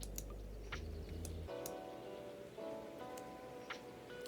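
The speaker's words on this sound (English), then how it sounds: "Oh, it's raining." Game rain from Tiny Bookshop, a steady soft patter of drops with faint ticking accents, continuous and close over a looping musical backdrop.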